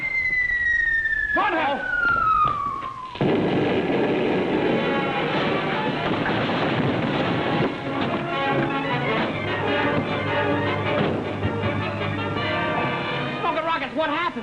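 A film sound effect of an incoming missile: a loud, steadily descending whistle falls over about three seconds, then gives way to a long, roaring blast and rumble, with someone shouting briefly over it.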